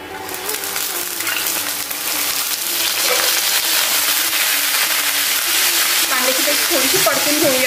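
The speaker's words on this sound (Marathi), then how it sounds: "आता कांद्याची पेस्ट सुद्धा थोडीशी परतून झालेली आहे आपली" Onion paste sautéing in hot oil with cumin for Kashmiri dum aloo, a steady loud sizzle and crackle that runs throughout, with occasional stirring scrapes near the end and no voices.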